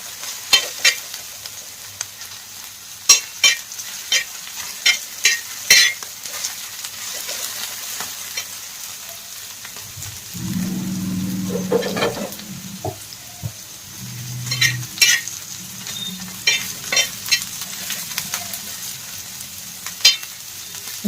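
Food fries slowly in a pan with a soft, steady sizzle, broken by frequent sharp clicks and scrapes of a spoon stirring. A low hum rises and falls for a few seconds midway.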